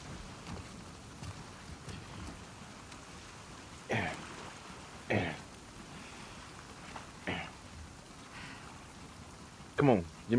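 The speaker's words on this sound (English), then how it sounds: "Let's get out of the rain." Steady rain falls in The Last of Us Part II, a continuous hiss with a few louder thumps and splashes scattered through it. Voices talk faintly beneath the rain.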